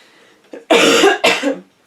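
Two harsh, loud coughs close by, the first preceded by a short catch of breath, with a brief pause between them.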